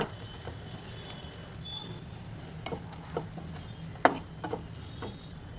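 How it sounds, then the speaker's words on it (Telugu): Grated jaggery and dry coconut being stirred in ghee in a pan, a soft low sizzle with scattered spoon scrapes and taps, one sharper knock standing out, faint and close with no talking. "దీన్ని యాడ్ చేసి ఒకసారి బాగా కలుపుకోవాలి"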